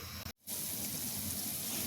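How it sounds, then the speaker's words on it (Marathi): Water boils in a pan, bubbling and hissing in a steady rush, interrupted by a brief silent gap near the start before continuing unbroken. "हे पहा पाण्याला छान उकळी आली"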